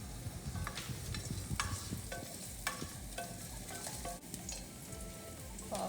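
Ginger and garlic frying in oil in a pan, with a steady close sizzle broken by repeated scraping stirs at an irregular rhythm and no talking.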